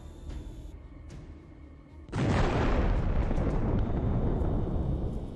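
A drone strike explodes on Russian artillery, a sudden broadband blast that hits midway and stays as a sustained loud roar and rumble after a quieter stretch of background noise.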